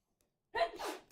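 A single sudden sneeze bursts out in a quiet classroom during a chemistry lesson, a short sharp blast that trails off within a second.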